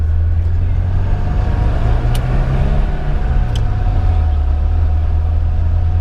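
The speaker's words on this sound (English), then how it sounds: "Our heater is on right now. Hopefully you can hear the fan." The heater fan runs inside a 1976 BMW 2002 Coupe as a loud, steady whoosh with a low drone, and a couple of faint clicks come through.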